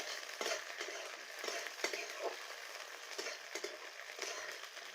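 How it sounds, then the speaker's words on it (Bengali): Chopped onions frying in a pan for a village-style garlic pabda fish recipe, a steady broadband sizzle broken by repeated scraping stirs, close and fairly quiet with no talk. "ওই পেঁয়াজগুলো দিয়ে দেব। লাল লাল করে ভেজে নেব।"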